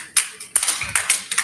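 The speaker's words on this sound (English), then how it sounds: "Professor is actually clapping without doing any work." A professor claps his hands in a meeting room, a run of about eight sharp, close claps at an uneven pace, alone without talk.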